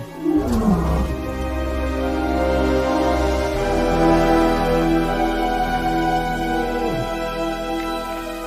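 A lion's deep, rumbling roar fills the air, loud and sustained, with a long drawn-out growl and no voices.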